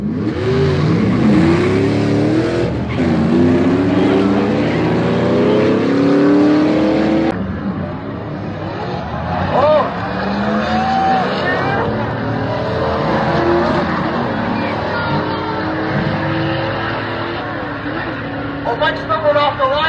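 A race Jeep with a 5.2 Magnum engine drag races at the track, engine roaring and revving hard with tire squeal and a commentator's voice talking over the loud run.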